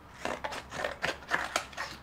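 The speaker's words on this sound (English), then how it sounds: "Let's see how sharp the scissors are." Scissors snip repeatedly through the air as their sharpness is tested, about eight quick, crisp cuts in irregular rhythm, close and fairly quiet.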